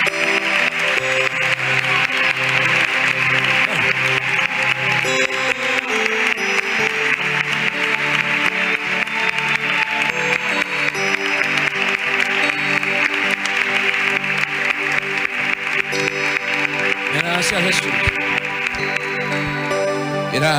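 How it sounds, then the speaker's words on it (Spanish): A congregation at an evangelical church service keeps up a steady, loud applause throughout, mixed with music and voices in a full, continuous wash of sound. "Denle un fuerte aplauso y grande al Señor."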